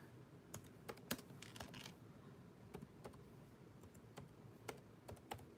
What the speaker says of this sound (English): I get nervous typing with you guys